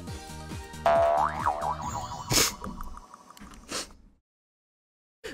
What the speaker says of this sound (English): The donation sound actually scared me.